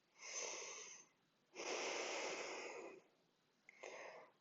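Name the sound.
a deep breath during yoga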